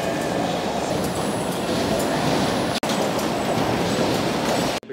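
Steady rumble of busy Nagoya Station in Japan, a dense wash of rail noise and indoor ambience with faint high squeals, continuous throughout.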